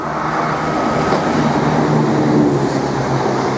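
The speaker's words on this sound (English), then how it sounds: "we've got a turbo stock unit now, en route for Ipswich to Peterborough. About to pass through Needham Market Station" A Turbo stock diesel unit in Greater Anglia livery, running from Ipswich to Peterborough, passes close through Needham Market station with a loud, continuous rumbling roar and wheel noise.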